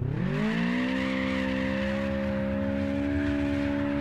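A car in the APEX POINT video game is thrown sideways into a drift, its tires squealing in a sustained, rising howl over a steady engine drone, loud and continuous with no talk.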